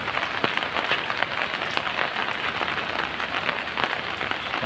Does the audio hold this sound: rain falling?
yes